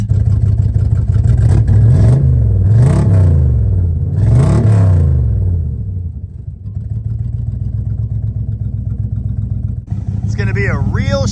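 A 1963 Chrysler 300J with a loud, damaged muffler revs up twice in strong rising and falling surges, then settles into a deep, rumbling idle, with people talking over it.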